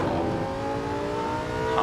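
Engine of a Lamborghini Sesto Elemento in the racing game Assetto Corsa, holding a loud, steady, buzzy drone at constant pitch for the whole stretch, close and alone, with a faint rise right at the end.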